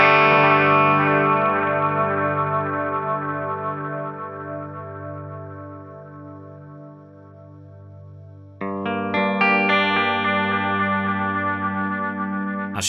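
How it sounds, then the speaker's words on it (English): Sustained electric guitar chords ring out through an Adriatic analog-style delay with high feedback, max BBD size and light modulation, the repeats swelling and blurring into a thick wash before a fresh bright chord strikes near the end. "Just sustained chords, basically. Plenty of space for us to be able to hear the character of the delay."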